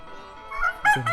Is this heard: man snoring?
no